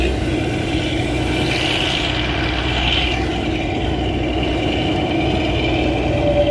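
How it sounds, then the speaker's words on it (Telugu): The Kalka–Shimla toy train's engine labours slowly uphill with a continuous low droning rumble, heard steadily from on board the coach. "ఆ ఇంజిన్ ఎక్కలేక ఎక్కుతుంది పాపం."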